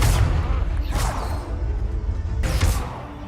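An Incendio fire spell is cast in the Hogwarts Legacy video game, two loud whooshing fiery bursts over a rumbling low roar, heard close with no talking.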